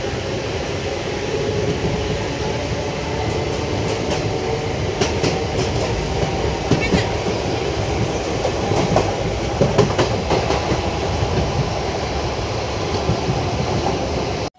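A Villupuram MEMU train runs along the rails with a steady rumble. Faint clickety-clack beats come through at times, heard from inside the carriage, continuous and fairly loud.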